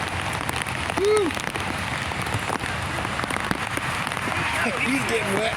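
Rain drums steadily on a car windshield during a thunderstorm, a dense continuous patter filling the clip with a few brief vocal sounds or exclamations near the start and end.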